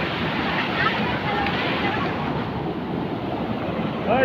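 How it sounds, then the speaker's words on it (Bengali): Wind rushes steadily past a small boat on a river outing, a broad, even roar like buffeting across the microphone, with faint sloshing water beneath and a voice speaking over it. "হাওয়াটা লাগছে তো।"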